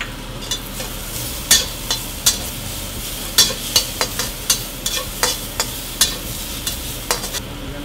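Onions and garlic fry in oil in a pan for lomo saltado, a soft steady sizzle under irregular sharp clicks of stirring against the pan, close up with no talk.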